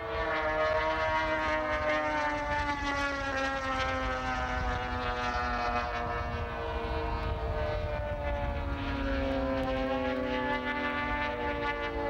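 Twin-engine racing aircraft with twin inline Husky Challenger engines flying past at the Madera air race, a loud continuous drone with steady harmonic engine tones that shift slightly in pitch throughout.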